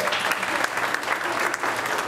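A crowd at a recognition event applauds a leader and his wife, giving dense, steady clapping that fills the room at close range.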